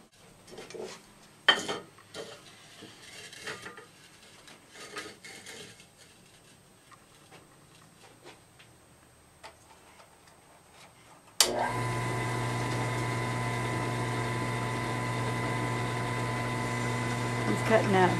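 Drill press cutting a 1.5-inch entrance hole in a wooden bluebird house: scattered clatter and handling noises come first, then the machine starts with a loud, steady whining drone that runs to the end. A voice talks at points.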